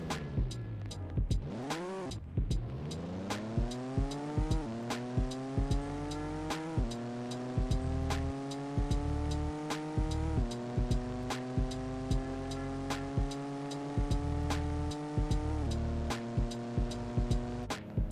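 A budget drag sleeper car in Car Parking Multiplayer makes a drag run with a manual gearbox, its engine revving up repeatedly through a long series of gear changes, loud and steady from start to finish.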